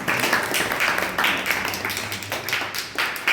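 An audience claps their hands during a sermon, dense continuous applause from many people filling the room, no voices over it.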